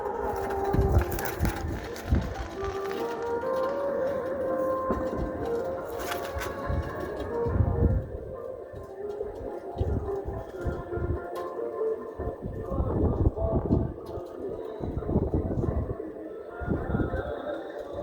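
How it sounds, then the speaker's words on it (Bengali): Lambadi pigeons coo repeatedly in soft, low, rhythmic rolls, fairly close, with bursts of fluttering and handling noise around them in a pigeon loft. "লাম্বাডি পায়রা আমাদের লাম্বাডি পায়রা"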